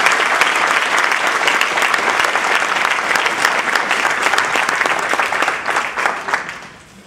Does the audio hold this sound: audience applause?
yes